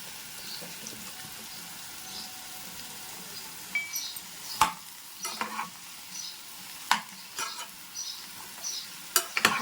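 Cucumber pieces frying in a pan for pickle, a soft steady sizzle under faint kitchen noise, broken by several sharp scraping and stirring knocks that grow more frequent toward the end.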